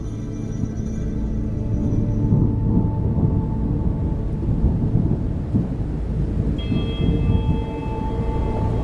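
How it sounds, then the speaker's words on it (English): Heavy rain pours steadily while low thunder rumbles and rolls through the middle, loud and close, with no voices over the storm. "The sound of the rain appeared to startle them"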